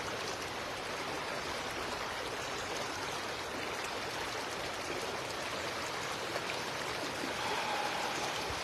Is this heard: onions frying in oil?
no